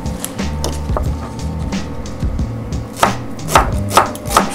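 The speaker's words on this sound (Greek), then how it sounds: "Ψιλοκόβουμε το κρεμμυδάκι μας." Fresh spring onions being finely chopped with a knife on a cutting board in a home kitchen, a steady run of close, crisp taps that grow louder and sharper toward the end, with no talking.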